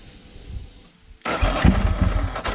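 Ducati motorcycle engine started from cold: a brief starter crank, a short pause, then the engine catches and settles into a loud, rough close-up idle.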